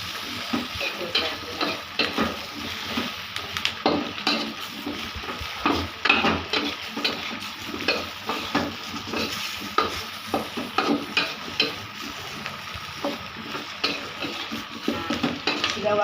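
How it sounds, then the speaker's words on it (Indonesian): Ground candlenuts, garlic and shallots stir-fry in a pan over moderate heat, a steady sizzle punctuated by repeated scraping and clinking of a utensil against the pan, close and continuous with no talking. "kita masukkan kemiri yang sudah dihaluskan untuk sama-sama ditumis"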